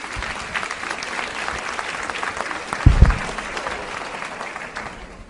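An audience at an education summit applauds students with sustained, dense clapping throughout, swelling briefly near the middle with a few louder thumps, then continuing steadily.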